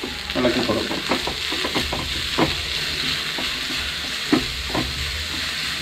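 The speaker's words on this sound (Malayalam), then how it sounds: "ഇതൊന്ന് ഇളക്കി കൊടുക്കും." Egg mixture for an Afghani omelette being stirred in a pan: a steady sizzling fry with repeated scraping and stirring strokes close by, with no talking.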